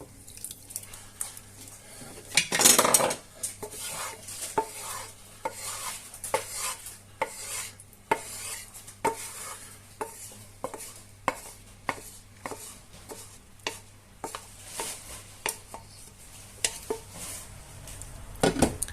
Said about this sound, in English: Would you add the meatballs onto the spaghetti, or the spaghetti onto the meatballs?